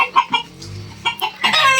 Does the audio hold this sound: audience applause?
no